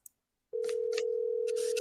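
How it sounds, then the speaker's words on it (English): A phone call over Wi-Fi calling connects with a brief click, then a steady, loud tone sits close and unbroken while faint clicks and rustles sound over it. No voices. "Hear the phone ring."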